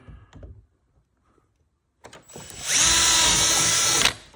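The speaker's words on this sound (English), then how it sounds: "Drill it straight in." After a few soft knocks and a pause, an electric drill driving a screw whirs loudly for about a second and a half, then stops abruptly.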